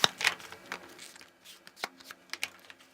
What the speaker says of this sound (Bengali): প্রথমে আমি এটাকে আনপ্যাক করে ফেলি দুটোকেই